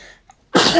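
A single sharp, loud sneeze bursts out after a brief quiet moment, broadband and explosive, close to the listener.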